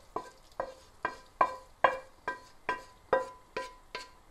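A spoon knocks against a pan in a steady, evenly spaced series of about ten sharp taps as onion goes into cabbage and peas. The hits ring briefly and sound close, with no talking over them.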